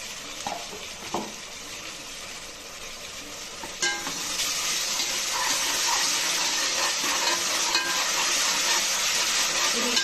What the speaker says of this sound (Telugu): ఇది కొంచెం పచ్చి వాసన పోయేదాకా ఫ్రై అవుతుంది